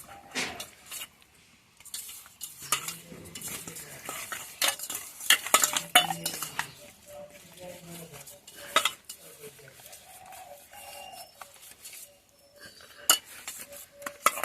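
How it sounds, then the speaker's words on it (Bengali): Fresh fish is worked with salt by hand in a dish, making irregular wet rubbing and scraping sounds with occasional clinks against the dish, close and fairly quiet. "তো কষিয়ে কষিয়ে মাছের ভিতরে একদম ভালো করে মেখে নিই।"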